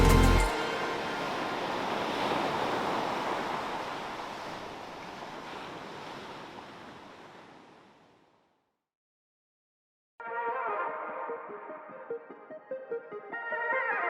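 Ocean waves wash steadily onto Bingin Beach in Bali, a loud, continuous surf roar that fades out, followed after a silent gap by a thinner, choppier wash of water with slight wind noise.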